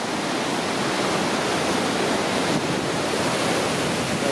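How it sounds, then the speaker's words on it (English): Vernal Falls in full flow roars as a loud, steady wash of falling water, heard up close from near the footbridge below it with no voices over it. "the waterfall is moving really good."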